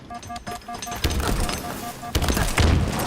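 Gunshots in Halo ring out as several sharp cracks and short bursts over a steady beeping game tone, moderately loud with a thumping low blast late on.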